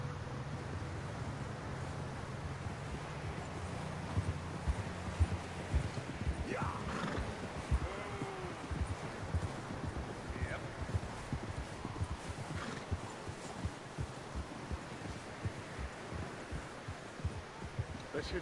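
In the video game Red Dead Redemption 2, horses shuffle and clip-clop close by with a steady irregular hoof patter, and a couple of whinnies and snorts rise over it. A low rumble sits under the opening seconds.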